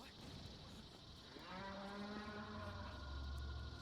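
Gecko walkers in Metal Gear Solid 4 let out a loud, low, drawn-out cow-like moo that swells and holds over steady background noise from the game.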